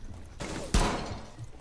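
Gunfire in a 1v1 video game match, with two quick shots in a short burst, the second one sharper and louder, over a quiet background.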